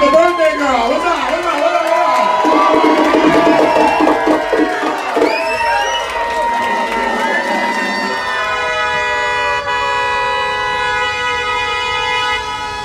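A group whoops and cheers loudly for several seconds at a birthday party with a punk band playing D.C. go-go, then the voices give way to a sustained droning tone.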